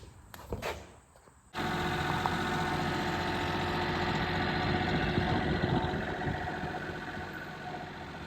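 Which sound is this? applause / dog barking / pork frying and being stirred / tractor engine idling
tractor engine idling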